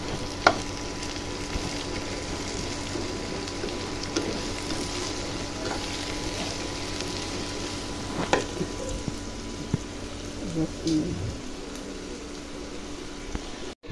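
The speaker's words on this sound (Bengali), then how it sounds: "বেরেস্তা বসালাম।" Sliced onions for biryani fry in hot oil until browned as beresta, giving a close, continuous crackling sizzle with small pops and occasional stirring clinks.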